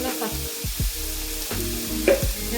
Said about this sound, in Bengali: ভালোভাবে মিক্স করে নিচ্ছি সবজির সাথে একটু হালকা আঁচে